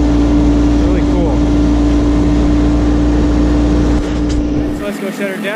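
A 2018 Massey Ferguson 1526 compact tractor engine runs at a steady idle with an even droning hum, then shuts off and the rumble drops away just before the end.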